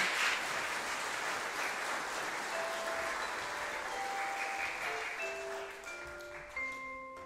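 At a Christmas concert at a music school in Jūrmala, the audience applauds to thank two teachers, steady clapping that thins out as sustained instrument tones begin to sound underneath.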